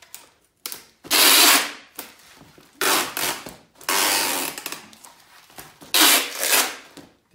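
A packing tape gun seals a parcel holding painting panels, making four loud, rasping screeches as tape is pulled out, each ending in a sharp clack, with short quiet pauses between.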